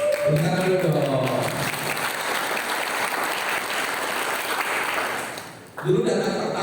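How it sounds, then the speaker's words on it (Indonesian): A youth seminar audience claps for a young man called up front, giving a sustained wash of applause that fades out near the end, with a voice speaking at the start and again right after it stops. "Tepuk tangan dulu dong."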